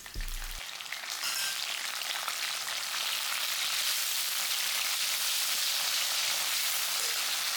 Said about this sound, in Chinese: 闻到香味之后，就下豆酱炒一炒。